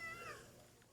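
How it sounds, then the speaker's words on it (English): A house cat gives a single short, faint meow that slides downward in pitch, heard close by but quiet against a still room. "That's my cat."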